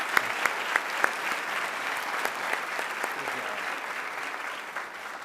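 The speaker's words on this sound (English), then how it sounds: "Let's give them a round of applause." An audience at the UT Martin 125th Anniversary Celebration applauds its speakers with steady, even clapping throughout, a few sharper individual claps standing out near the start.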